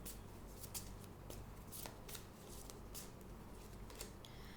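Tarot cards being shuffled by hand during a reading, with a steady soft riffling and regular crisp flicks of the deck that repeat in a quick rhythm, close and fairly quiet, with no voices.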